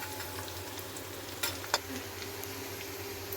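Curry leaves sauté in hot oil in a pan for fish biryani, a soft steady sizzle with a couple of brief stirring clicks, close and fairly quiet.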